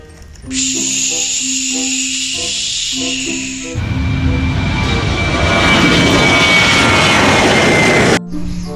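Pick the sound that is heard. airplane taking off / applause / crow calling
airplane taking off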